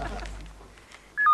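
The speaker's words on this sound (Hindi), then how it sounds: "प्रेमा जी का फोन" A landline telephone rings in a home during a family comedy scene, a short bright electronic tone bursting in loudly at the very end after a quiet stretch with faint room sounds.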